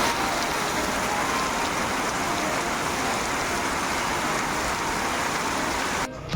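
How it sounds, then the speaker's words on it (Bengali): Heavy rain pours steadily and loudly close by, a dense, unbroken wash of drops drumming on surfaces, continuing alone without voices until it cuts off abruptly at the very end. "আর কি জোর বৃষ্টি হচ্ছে,"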